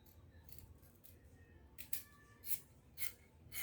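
Scissors snipping through fabric while cutting out a bubu gown, a few quiet cuts at first, then several sharper, louder snips in a steady rhythm near the end.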